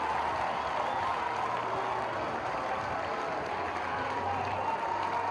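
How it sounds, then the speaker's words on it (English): A crowd cheers a goal at the Bruce Pullman Arena during the New Zealand vs Tahiti OFC Futsal Nations Cup final, a loud and sustained roar with applause that holds for the whole clip. "sending the Bruce Pullman Arena crowd into raptures"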